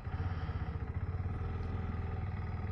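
A KTM 390 Adventure motorcycle engine idles steadily after being restarted with the kill switch, its close, throbbing single-cylinder pulse running evenly throughout with no talk.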